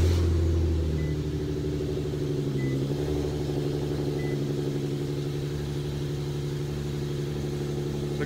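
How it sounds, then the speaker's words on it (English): A 2014 Infiniti Q50S AWD settles into a cold-start idle: a loud, deep engine growl at first that eases into a steady, even rumble, heard close up from outside the car with no talking. "I have not started the car since yesterday, so you're going to really hear the full growl."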